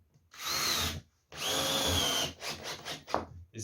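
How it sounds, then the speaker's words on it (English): A power drill drives Torx screws into the wood of a 2 ft quarterpipe skate ramp, 1.8 m wide, in two sustained whirring bursts close by, followed by a few shorter clicks and handling knocks. "And we can drive some screws through them."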